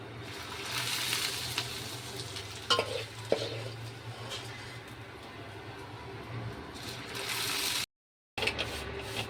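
Shavige (vermicelli) flour frying and being stirred in a pan, a continuous close sizzling hiss with occasional scrapes and clinks, briefly dropping out near the end, no talking.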